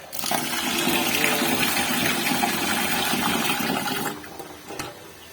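Rice is rinsed in a vessel of water, giving a loud, continuous sloshing and rushing that runs for about four seconds before easing into quieter trickles.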